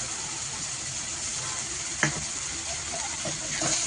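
Ginger paste hitting hot oil over onions fried deep red, cooking for a Bengali goat meat curry; a steady close hiss of sizzling throughout, with a sharp crackle burst near the middle and small stirring clicks.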